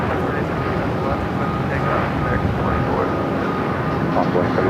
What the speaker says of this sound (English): 17 left, clear for takeoff